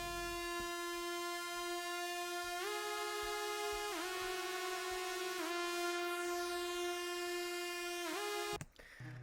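Synth saw lead in the intro style of a track, built in Serum: a sustained buzzy, bright tone gliding between held pitches, fairly quiet, alone without talk, cutting off near the end.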